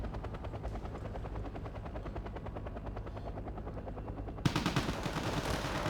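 Helicopter rotors thump in a rapid, steady chop in the strategy video game Wargame Red Dragon, and a burst of gunfire breaks in near the end over the continuing rotor noise.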